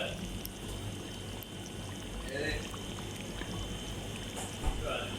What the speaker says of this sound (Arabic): غادي نزيد عليه البيض مباشره